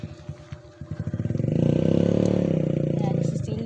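A motorcycle engine starts up and revs, the pulsing idle rising into a steady loud throb close by as the bike is moved under shelter, with a voice talking over it.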